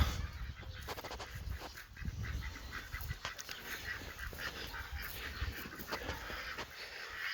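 Domestic ducks of Saxony, Cayuga and Muscovy breeds on a farm, a busy mix of quacks and honks near and far over steady outdoor background noise.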